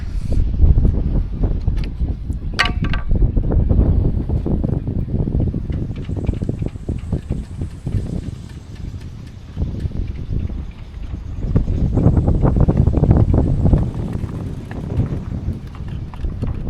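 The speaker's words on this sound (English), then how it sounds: "Ignore the wind noise, please, because wind seems to follow me wherever I go." Steady buffeting wind noise rumbles across an outdoor microphone, gusting and fading in waves throughout, loud and low with scattered rustling and clicks.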